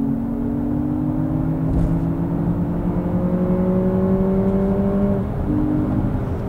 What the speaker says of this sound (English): We can put myself in sport mode and give it some gas.